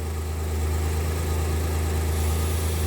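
A multicab engine idles roughly with an enlarged vacuum leak, giving a steady, close, low rumble with a shaky, uneven vibration throughout.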